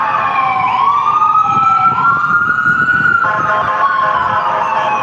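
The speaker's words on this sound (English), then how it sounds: "Second ambulance." Ambulance siren on a city street, wailing and rising and falling continuously and loud throughout, with road traffic rumble beneath and no speech.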